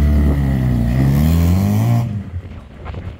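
A restored RX4 muscle car, running again after sitting for 16 years, drives off: a loud, close engine roar with rising, shifting pitch cuts away quickly, leaving a fainter rumble as it pulls into the distance.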